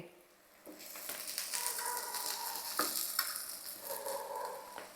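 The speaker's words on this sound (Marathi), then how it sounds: "मस्त असे कुरकुरीत होईस्तोपर्यंत फ्राय करून घेऊया" Sweet potato slices coated in semolina frying in oil until crispy, a continuous close sizzle rising and falling with occasional scraping, no voices.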